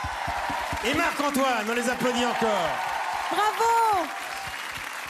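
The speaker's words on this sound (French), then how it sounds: "on les applaudit encore" Audience applause at a concert, a steady wash of clapping from a large crowd running beneath a presenter's voice, with a shouted cheer breaking through.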